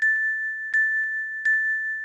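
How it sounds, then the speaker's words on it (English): Chimes from the Quest for Glory 4 adventure game ring in three clear, evenly spaced strikes over a steady high tone, each with a faint echoing second ping, with no talk. "I think that was 4 chimes on this one."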